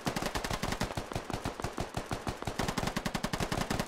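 Sustained automatic gunfire in the Squad video game during a firefight, a rapid, steady stream of loud, sharp shots continuing without pause and with no talking over it.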